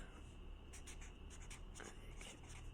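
A pen writes by hand on paper in short, quiet scratching strokes, faint and close, over a low background hiss.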